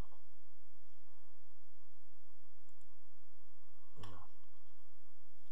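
A single sharp computer mouse click near the end, close and isolated against a quiet background hum while topping up a Neteller account online.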